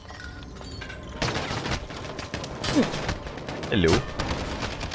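Gunfire from Call of Duty: Modern Warfare sounds in rapid bursts and loud sustained volleys, with a player's voice talking over the shooting.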